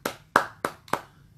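A few people clap in four separate, evenly spaced sharp bursts, close and distinct rather than a full crowd applause, with no voices.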